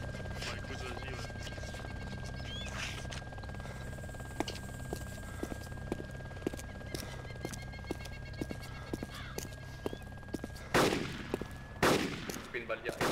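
Gunfire in the survival video game DayZ Epoch, heard as scattered faint single shots through the middle and two loud close bursts near the end, set against steady game ambience and a constant tone while players talk.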